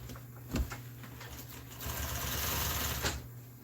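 An industrial-style sewing machine stitches upholstery for a motor home RV seat as its bobbin runs out, a close, busy mechanical whir with a few sharper knocks, swelling louder through the middle of the short stretch.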